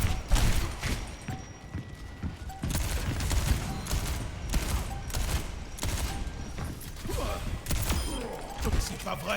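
Rapid bursts of gunfire in the video game Overwatch 2 repeat in a steady stream, close and loud, layered over other in-game action noise.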